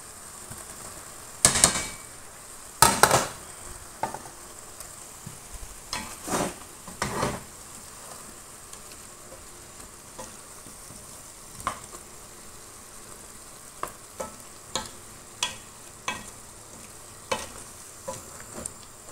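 Two fish heads fry in hot oil over a thick cooked-down masala, a low sizzle punctuated by sharp, irregular clanks and scrapes of a spatula against the pan.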